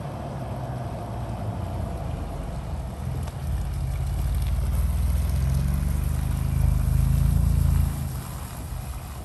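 A deep, throaty exhaust rumble from a 2021 Ford Bronco with a ROUSH performance exhaust swells as it approaches in a neighborhood, holds loud for a few seconds, then eases off, over steady outdoor background noise.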